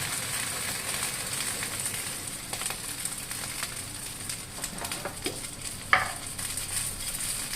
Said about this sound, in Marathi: आता हे छान आपल्याला मस्त तेलामध्ये चांगलं भाजू द्यायचं आपल्याला